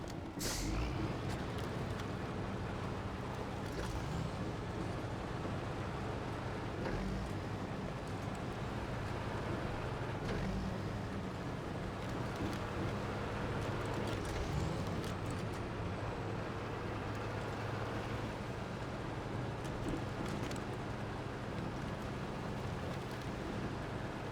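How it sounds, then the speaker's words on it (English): Military truck in SnowRunner rumbling along steadily, a continuous low engine drone with broadband noise and occasional faint clunks, unbroken for the whole stretch. "It's a military truck."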